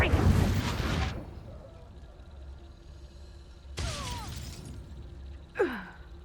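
A Confringo fire spell goes off in a fantasy video game with a short burst of blast noise up front, then two more whooshing bursts with sweeping magical tones, moderately loud against a low steady hum.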